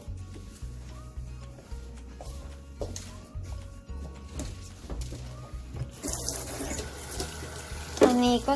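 Dishes washed with a cloth under warm water from a kitchen tap. A rushing stream of running water comes in loudly during the latter part, after a stretch of clattering and tonal background sounds.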